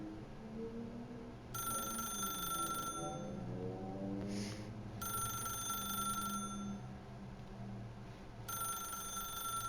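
A telephone rings in the video game The Stanley Parable: Ultra Deluxe, three clear bursts of bright bell ringing spaced evenly, sounding over a soft, swelling musical background with no talk.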